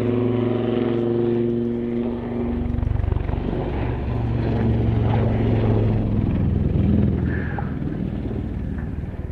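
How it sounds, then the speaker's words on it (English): A Lynx helicopter at an air display comes into a hover and then dives away nose down, a loud, steady rotor and engine roar with droning tones that shift as it moves, no speech. "As the Lynx comes into the hover and a big nose down dive away."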